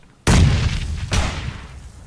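A grenade blast in the video game PUBG: a sudden loud boom with a rumbling tail, followed a moment later by a second, weaker detonation that fades out.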